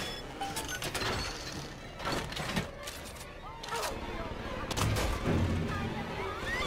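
Turret gunfire from BioShock 2 crackles in dense, continuous bursts with sharp transients and clattering impacts, loud throughout the combat.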